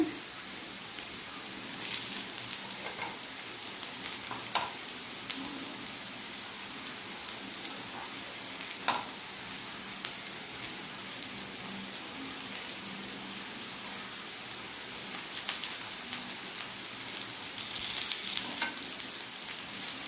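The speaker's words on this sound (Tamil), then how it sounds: "இப்போ நல்லா ஃப்ரை ஆகட்டும்" Raw banana (vazhakkai) slices fry in a pan with a quiet, steady sizzle, crackling softly like light rain, with faint occasional pops and clinks.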